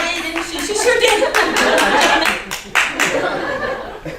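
A classroom audience gives an extended, high-held clapping ovation after a stand-up class performance, steady dense claps with laughter and chatter mixed in throughout.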